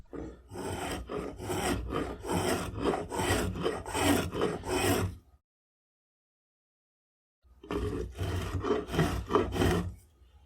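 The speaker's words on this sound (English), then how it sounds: "I need to reverse directions with the spokeshave" A spokeshave shaving a wooden military rifle buttstock: rhythmic close rasping strokes, about a dozen quick passes, a pause of silence, then another run of strokes.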